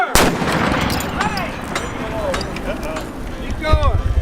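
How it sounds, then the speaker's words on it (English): A cannon fires at a live-fire demonstration, producing a sharp, loud close blast at the start and another boom near the end, with shouted commands and excited voices around them. "Gun number 7, prepare to fire!"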